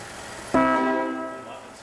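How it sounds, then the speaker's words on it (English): A single loud, sustained horn blast from a 1937 Rolls-Royce Phantom III Aero Coupe sounds close by with a rich, chord-like tone, starting abruptly and slowly fading over about a second. "Can we hear the horn?"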